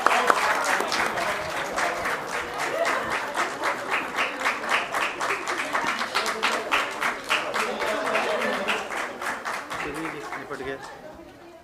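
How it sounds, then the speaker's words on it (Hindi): A theater festival audience applauds during a prize distribution ceremony, with loud, sustained clapping that settles into a rhythmic, even beat before it slowly fades out near the end. "तालियां तालियां।"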